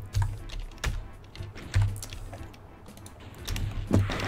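A computer keyboard clicks while someone plays Ultimate Doom in GZDoom, with sharp separate keystrokes close up at an uneven pace and short quiet gaps between them.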